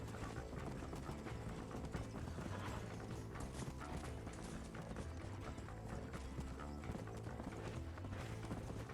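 Horses gallop in the Western video game Red Dead Redemption, with steady, rapid clip-clop hoofbeats and rattling tack that continue without a break, mixed with cart noise and game ambience.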